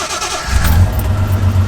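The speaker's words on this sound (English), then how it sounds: "Does the car start again?" A Reliant car engine cranks and catches, rising at about half a second into a steady, loud low rumble that settles into a fast idle for the rest of the moment.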